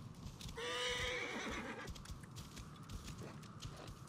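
A horse's whinny from the video game Assassin's Creed Origins rings out loud and clear for over a second, followed by soft hoof clip-clops and faint ambient game sound.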